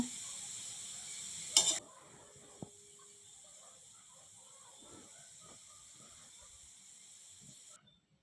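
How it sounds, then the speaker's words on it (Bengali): Potatoes fry in oil in a wok with a faint, steady sizzle, broken early by a sharp clatter and a brief knock. "আর আলুগুলো ভেজে নিয়েছি।"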